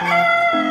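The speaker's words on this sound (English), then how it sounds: "chicken, murghi," A short, loud rooster crow with a sustained, strained tone that drops in pitch near the end, among farm animal sounds.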